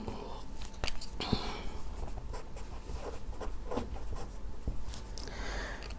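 Chalk or marker scratching on a board during a third-grade math lesson on multiplication tables, a steady run of short strokes and taps with faint rustling, fairly close.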